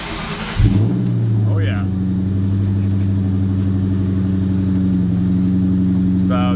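A 2004 Mustang Cobra V8 fires up with a sharp starting burst, then holds a loud, steady, rumbling idle up close, with brief voices over it.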